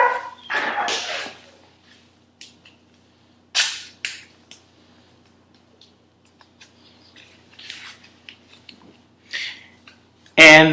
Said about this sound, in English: forgive my dog in the background